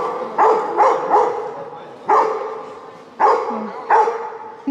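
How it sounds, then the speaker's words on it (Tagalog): A big angry dog barks loudly and close by, firing off about seven deep, forceful barks in uneven bursts with short pauses between them. "Ang lalaki ng aso."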